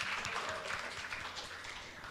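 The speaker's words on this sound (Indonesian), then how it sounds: "Boleh kasih tepuk tangan dulu dong buat Tuhan Yesus." A church congregation applauds during a youth Sunday service, a faint, steady patter of many hands clapping at a distance, with no talk over it.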